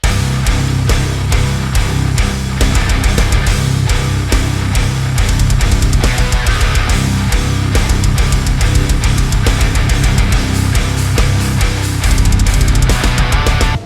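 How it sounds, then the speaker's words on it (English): A loud, dense heavy metal breakdown built on triplet rhythms, with chugging low guitars and pounding drums driving steadily and relentlessly throughout before cutting off abruptly. "Nick does a good example of adding triplets into a breakdown"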